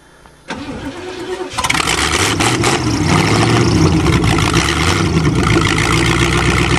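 A previously hydrolocked car engine cranks briefly and catches, then settles into a loud, steady running rumble close by.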